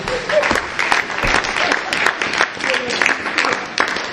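A church congregation applauding during a sermon, dense close clapping from many hands in rising and falling waves with scattered cheers mixed in.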